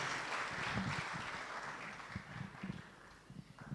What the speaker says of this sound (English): Let's give her a clap as she takes our place